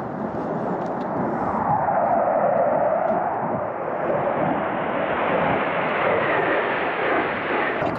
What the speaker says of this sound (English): Quite often you get aeroplanes going over the top in the Lake District.